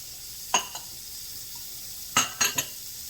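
Bacon and tomatoes hit a hot pan while shrimp with fettuccine is being cooked. There is a brief clatter and sizzle near 0.5 s, then a louder burst of sizzling clatter around 2.2–2.6 s over a low, steady background hiss.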